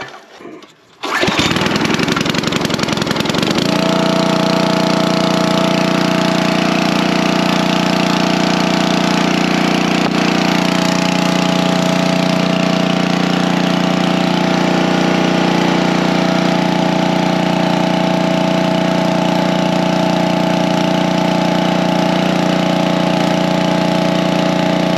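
A log splitter's gasoline engine, pulled over by recoil starter, catches after a brief rattle and settles into a loud, steady running drone that holds unbroken for the rest of the stretch, close and alone without voices.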